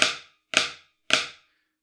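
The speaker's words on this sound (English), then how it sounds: "So the flam looks and sounds like this," Three crisp flams struck on a marching snare drum at an even pace, each a sharp, bright crack with a quick ringing decay, close up with no other sound.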